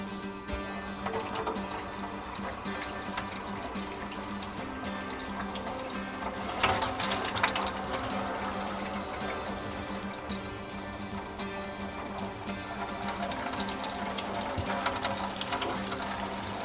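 Cold water runs from a newly installed kitchen faucet into the sink, a continuous close splashing hiss that swells briefly midway and then settles to a steady flow.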